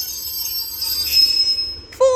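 Northern passenger train from Ormskirk pulling into Preston station to terminate, with steady high wheel squeal throughout and a sharp, louder squeal rising at the very end.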